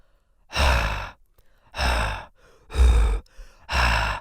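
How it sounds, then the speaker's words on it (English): Four deep, breathy beatbox chest-bass grunts are pushed out one after another, close and evenly spaced, with short silences between them. "So the normal chest bass sounds like this."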